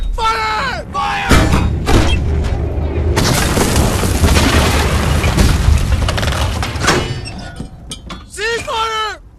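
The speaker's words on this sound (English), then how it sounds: "Fire all three cannons!" Three cannons fire in heavy booming blasts that roll out in a sustained barrage, loud and close, with shouting voices before and after the firing.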